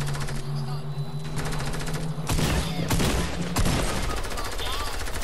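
Video game gunfire in bursts of rapid shots, loud and close, with a heavier volley near the middle and game ambience underneath.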